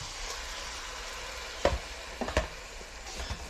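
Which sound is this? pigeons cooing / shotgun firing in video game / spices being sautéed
spices being sautéed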